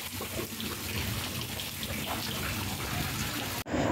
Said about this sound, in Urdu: رات 12:30 دے قریب جے زوردار آندھی تے بارش ہے